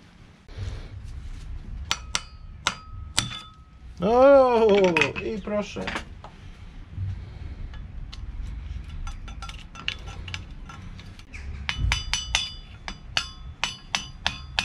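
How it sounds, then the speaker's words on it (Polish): Hammer blows ring out on the steering stem of a Suzuki SV motorcycle in a barn workshop, a few sharp metallic taps and clinks, then a quick run of lighter strikes near the end, with someone speaking briefly in between. "No i teraz przyfastryguję mu z młotka."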